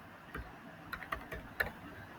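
Several separate keystrokes tapped on a computer keyboard while the word print is entered as Python code, quiet clicks spaced irregularly with no talk.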